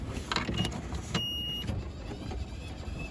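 A sailboat's engine runs during an offshore passage from Portugal to the Canary Islands, giving a steady, moderately loud mechanical drone with a few brief bumps and clunks on top and no voices.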